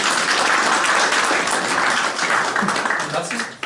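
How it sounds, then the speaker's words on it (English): A conference audience at a tech talk breaking into dense, sustained clapping that fills the room, loud and steady before tapering off near the end, with a voice faintly mixed in. "I do a picture, and you clap."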